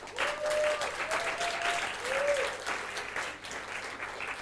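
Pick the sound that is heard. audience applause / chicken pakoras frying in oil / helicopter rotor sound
audience applause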